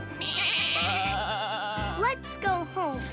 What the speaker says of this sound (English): My sheep! My sheep!